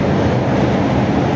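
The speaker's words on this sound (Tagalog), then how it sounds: "medyo maingay kasi mga dumadaan po dyan na LRT sa taas" Rumble of an LRT train passing on the elevated track above a busy Rizal Avenue street market, a loud, steady low roar filling the whole moment with no break.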